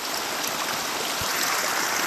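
A flowing stream rushes in a steady, close, broadband wash of water with no pauses or voices over it.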